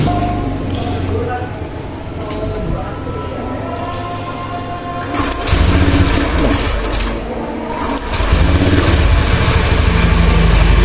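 A Honda Beat scooter fitted with a Scoopy fuel injector starts and idles, its engine loud and close, rising in two steps as the revs lift, with a person talking over it.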